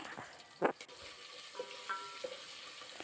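Curry leaves and chopped onion sizzle faintly as a tempering in hot oil for a vegetable sambar, with a couple of brief stirring knocks over a low, steady frying hiss and no speech.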